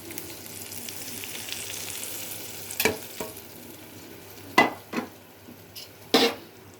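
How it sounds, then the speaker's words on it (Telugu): Hot tempering hisses as it is poured into spinach dal, with a low continuous frying sizzle punctuated by a few sharp clinks of a spoon or pot at close range. "తాలింపు పప్పులో వేసేస్తున్నాను ఫ్రెండ్స్"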